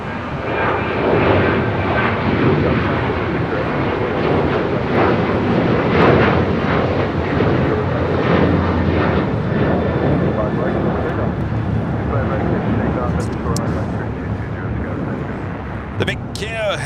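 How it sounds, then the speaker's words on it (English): Alaska Airlines Boeing 737-900ER jet taking off on the south side at LAX, a loud, continuous broadband engine roar sustained throughout, with talking over the noise. "Next takeoff here on the south side is Alaska Airlines flight 1374 heading to Loreto."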